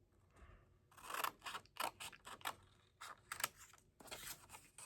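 Scissors snip through planner paper, cutting apart small printed boxes with quick, close, crisp strokes and scraping between cuts, irregular in rhythm and fairly quiet.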